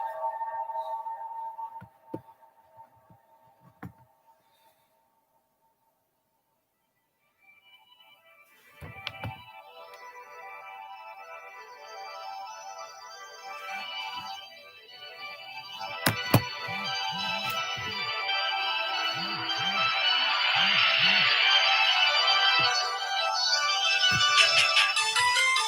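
Electronic track with a quiet melodic opening, a near-silent gap, then a building, dense and steadily louder arrangement with sharp percussive hits, heard alone without voices.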